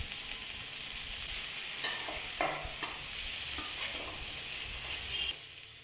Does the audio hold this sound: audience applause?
no